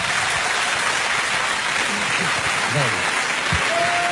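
Steady clapping from a debate audience runs continuously with bits of voices and murmur mixed underneath, moderately loud and close.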